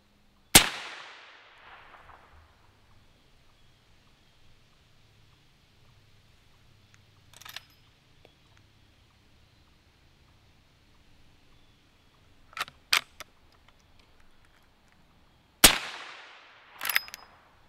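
A .500 S&W Magnum revolver fitted with a Bowers VERS 50 suppressor fires 325-grain Magtech rounds: several sharp, separate reports spaced seconds apart, each a loud crack with a short decaying tail, some close together near the end, with quiet pauses between.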